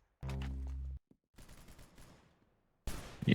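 Pistol shots in a video game, one loud sustained burst followed by a quieter crackling stretch and another sharp blast at the end, no voices.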